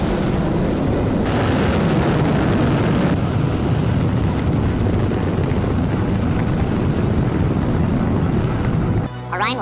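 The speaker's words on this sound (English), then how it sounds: "It all begins with launch, aboard a Delta IV Heavy rocket." A Delta IV Heavy rocket carrying the Orion spacecraft lifts off with a loud, continuous, crackling roar of broad rumble that holds steady throughout.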